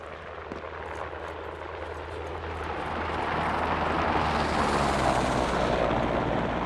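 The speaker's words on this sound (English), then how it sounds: "I can't even tell whose helicopters are whose without looking in the map" Helicopters in the military shooter Squad make a broad, rumbling rotor roar that swells louder midway and then holds steady, with a distant, washed-out quality and no voices.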